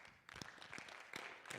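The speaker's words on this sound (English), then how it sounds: "And so I think he deserves a round of applause." A school district town hall audience claps for a superintendent, with scattered, fairly faint handclaps rising after a brief pause and continuing unevenly.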